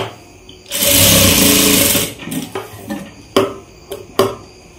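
A sewing machine runs a fast burst of stitching along a blouse neckline, loud and close for about a second. A series of short clicks and brief whirs follow as the fabric is adjusted.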